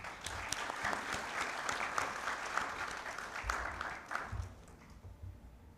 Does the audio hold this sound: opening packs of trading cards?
no